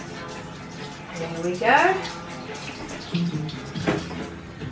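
Hands being rinsed under a running kitchen tap while baking: a brief splashing gush of water, close by, with a person speaking briefly over it.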